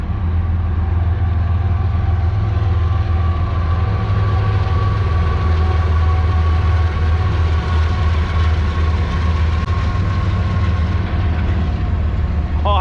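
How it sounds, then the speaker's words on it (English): A train rumbles past steadily in a Pittsburgh park, a loud continuous low drone with wheel clatter and a faint high squeal near the end, heard up close and alone. "I think another train is coming. So it should be coming right around this bend."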